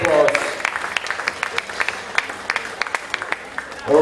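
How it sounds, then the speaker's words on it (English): Crowd applause at a basketball league awards ceremony, sparse, distinct claps from a modest audience, with voices briefly at the start and end. "Can we please have a round of applause?"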